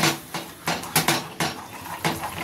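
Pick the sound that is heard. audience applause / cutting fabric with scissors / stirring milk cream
stirring milk cream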